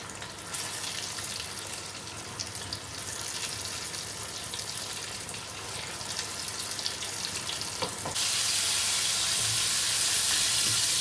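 Coated peri peri chicken popcorn frying in hot oil over a medium-to-low flame, a steady broad sizzling hiss that swells louder near the end, with no talking.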